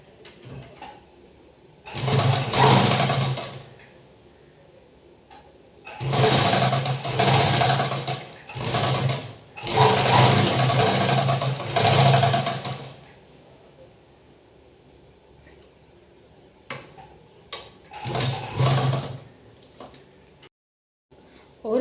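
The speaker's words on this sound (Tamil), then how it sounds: "ஜாயின் பண்ணி டபுள் ஸ்டிச் போட்டாச்சு" A sewing machine stitches a double seam joining fabric at the shoulder of a tailored slip, running in several whirring bursts of a few seconds each, separated by pauses where a voice speaks.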